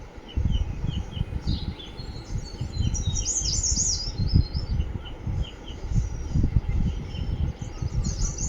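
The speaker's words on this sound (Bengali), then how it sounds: "কত পাখির ডাক শুনুন" Many birds chirp and call at once in a hill village near Darjeeling, bright overlapping tweets and trills over a steady low outdoor rumble, with no one talking.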